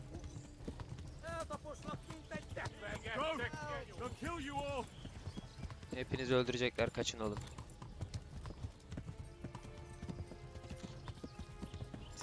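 Hooves from a galloping horse in Kingdom Come: Deliverance clop steadily and rhythmically, joined by whinnies. Voices speak over the hoofbeats throughout.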